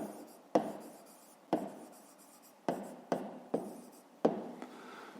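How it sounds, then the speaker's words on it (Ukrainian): Pen writing a maths answer on paper, six short scratchy strokes in uneven rhythm, close and quiet, each fading before the next. "Ну що ж, зараз записуємо відповідь."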